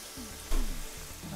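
Onions and spring onions frying in a reused pan, a steady close sizzle with a louder burst of crackle midway and faint stirring, no talking.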